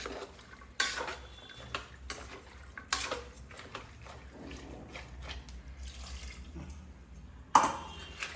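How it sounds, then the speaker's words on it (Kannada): Water is poured into a cooking pot holding a spicy banana-stem and legume gravy, with soft splashing, clinks of metal pots and utensils, and scattered drips in a quiet home kitchen. "ಅದಕ್ಕೆ ಇನ್ನೂ ಒಂದು ಸ್ವಲ್ಪ ನೀರು ಹಾಕ್ತಾ ಇದ್ದೀನಿ"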